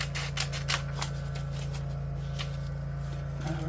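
Scissors trim across a sheet of paper for a junk journal envelope pocket, giving a series of short crisp snips in an uneven rhythm, close up over a steady low background hum.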